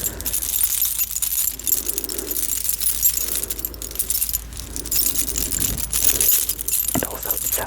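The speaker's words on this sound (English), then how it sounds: "I thought I should actually get a keychain for them" A keychain crowded with small trinkets jingles and clinks close up in a quiet ASMR setting, bright metallic chinks and rattles coming in irregular bursts throughout.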